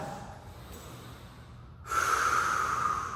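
A steady, close exhale of breath during a reformer Pilates exercise on a Merrithew MPX reformer, audible as a continuous airy rush that grows louder and brighter partway through, with no speech.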